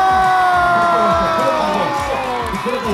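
A studio audience at a Korean TV variety show breaks into loud, continuous cheering and applause, with dense crowd voices and whoops filling the whole stretch.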